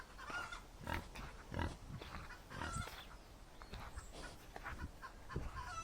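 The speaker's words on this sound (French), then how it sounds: "Poules, oies et cochons se baladent dans la cour, indifférents à ta venue." Pigs, chickens and geese mill about a farmyard, with pig grunts mixed among clucking chickens and occasional goose calls, a steady busy ambience at moderate distance.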